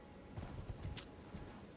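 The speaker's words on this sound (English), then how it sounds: "riding his horse. Yeehaw!" Horse hooves clip-clop in the Elden Ring video game as a mounted character rides, a few soft, irregular thuds spread across a short stretch with faint game ambience behind.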